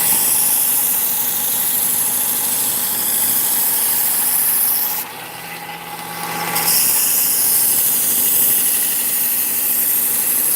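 Butcher knives ground on a power sharpener, a loud steady motorized whine with a bright high hiss that drops and dulls briefly midway before resuming, no voices.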